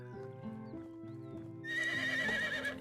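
A horse in the medieval game Medieval Dynasty trots in with steady clip-clopping hooves under a background music bed, then lets out a loud, drawn-out neigh near the end.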